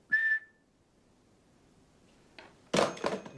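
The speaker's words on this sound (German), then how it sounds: "Wenn Sie uns etwas zu sagen haben, bitte nach dem Pfeifton." A law firm's answering machine gives a single short, clear beep tone at the start, followed by quiet and then a few dull knocks and thuds, in a 1994 German TV series.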